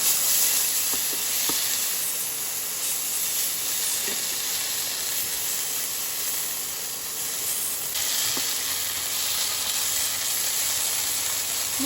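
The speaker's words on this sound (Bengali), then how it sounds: "মশলাটা একটু ভালো করে কষে নেব।" Spice masala for a Bengali mutton curry sizzles and hisses loudly and continuously while it is stir-fried in a pan, with a few faint scraping stirs.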